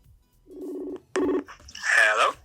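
Phone call being placed: a short run of dialing tones, then a ringing tone burst and a chirpy ring, each brief and clear, with a little background sound between them.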